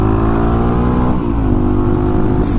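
A Yamaha FZ-09 motorcycle engine revs loud and close during a wheelie, a strong sustained roar holding steady with a slight dip in pitch near the middle, and no talk over it.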